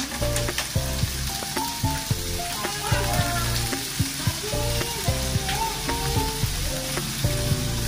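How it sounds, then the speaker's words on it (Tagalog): Snails (suso) sizzle and fry in a pan while being stirred, with steady crackling and repeated clinks and scrapes of a utensil against the pan, close and continuous without talk. "pag nalagay na yung suso, pwede lang siyang haluin"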